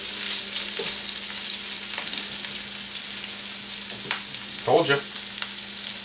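Beef sizzles steadily in a frying pan with black pepper, a constant bright crackle as it is stirred, with occasional scrapes and clinks and a short spoken remark near the end.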